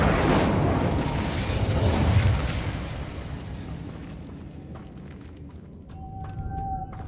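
A fiery spell blast from a wand in a fantasy video game set at a wizarding school, a loud rumbling whoosh and burst that swells around two seconds, then decays into a quieter tail with faint ringing tones.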